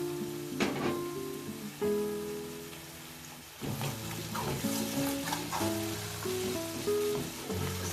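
Green chilies frying in a pan for matar pulao, a steady close crackling sizzle with stirring scrapes and clinks, a louder burst of sizzle around the middle and no talking.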